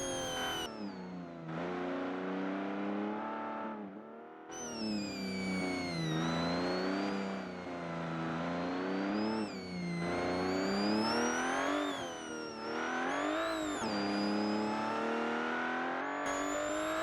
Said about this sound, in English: But the Supercharger whine is just...